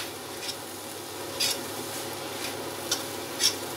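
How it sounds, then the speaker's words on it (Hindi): Grated carrots for gajar halwa roasted and stirred in a pan, a low continuous sizzle with a few scattered spoon scrapes and clinks at irregular intervals. "इसको हम अच्छी तरह भूनते जाएंगे। गाजर को भूनना है"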